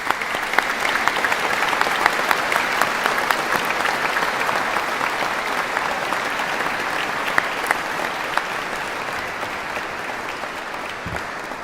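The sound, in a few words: applause at graduation ceremony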